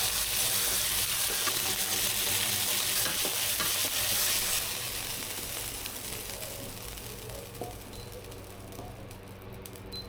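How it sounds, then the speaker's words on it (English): Pork stir-frying in a pan over high heat, a steady loud sizzle with scraping stir strokes, easing slightly toward the end. "Next, stir-fry the pork over high heat."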